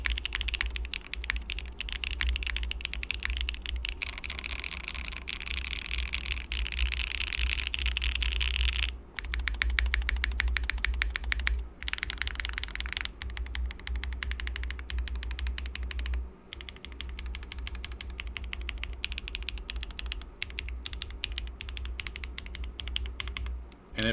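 Steady close-up typing on a mechanical keyboard fitted with HMX Milky White switches, a PC plate and swag keycaps: dense, even clacks with occasional pauses and a deeper spacebar thock, over a low constant hum.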